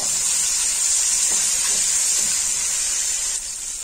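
Garlic paste frying briefly in a pan for a bitter gourd and chana dal dish, a constant bright sizzling hiss holding steady before easing slightly near the end, without any talking.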